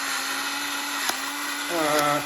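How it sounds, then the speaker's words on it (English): An electric grinder whirs steadily while blending traditional basil pesto with lemon juice and pepper in a home kitchen, a constant motor drone with a brief click partway and a shift in pitch near the end. "This is a fantastic invention, the blender. Not blender, sorry. Grinder."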